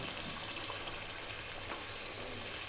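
Water poured into a soup pot for a vegan lentil and tomato soup, about half a litre going in as a steady, broad gushing pour that lasts throughout, close and alone without talk.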